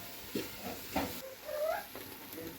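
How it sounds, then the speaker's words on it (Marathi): Masala for a village-style chicken curry is stirred and roasted in oil, a soft continuous sizzle with a few close scraping strokes. "तेल सुटले एकदम मस्त करपूस असा मसाला भाजला आहे"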